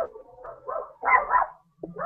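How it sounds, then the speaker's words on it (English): Several dogs bark in short, muffled bursts a little way off, two or three clusters of yaps with brief gaps between them. "This is exciting with the dogs barking in the background."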